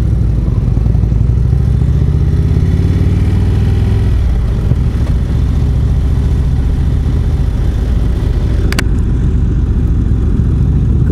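An Indian Springfield Darkhorse motorcycle engine runs close by with a steady, dense low rumble and mechanical clatter throughout, the pitch shifting slightly partway through, with no talking.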